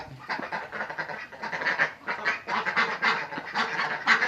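Ducks on a farm quack and honk in repeated, rhythmic bursts, close and fairly loud throughout, with no talking.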